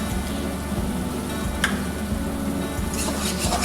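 A pan of spices with chili and turmeric powder sautés and is stirred for an egg devil recipe, a steady close sizzle with scraping stir strokes and no speech.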